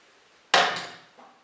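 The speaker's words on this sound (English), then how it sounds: "I'm taking my utility knife and just lightly scoring around the edge of the plastic wall anchor to break the seal of any paint" A utility knife scoring around the edge of a plastic wall anchor through paint on a wall, one sharp close scraping stroke that fades, then a faint second brief scrape.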